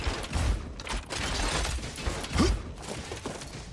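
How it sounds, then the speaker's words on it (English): A magazine is swapped on a gun in the video game Star Rupture. Close mechanical clicks and metallic rattles come through a busy, noisy game mix, with a few sharper impacts along the way. "Changing mags."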